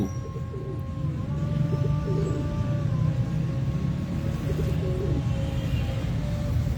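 Pigeons in a Lahore loft coo steadily, a soft repeated rolling call over a constant low background hum, with a faint high tone drifting through.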